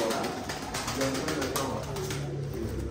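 Pigeons coo softly and steadily nearby, a low rolling murmur over a constant background hiss.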